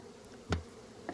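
Honey bees around a hive drone in a steady, low, close buzz, broken by a couple of brief knocks, with no one talking.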